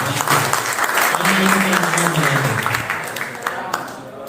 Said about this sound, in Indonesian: kita berikan tepuk tangan untuk Bapak Muhammad Usman